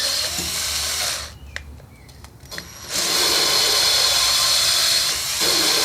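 A power drill laps an engine valve from a 1960s Tecumseh 6hp lawn tractor engine, giving a steady high whine that stops briefly then resumes, close and moderately loud.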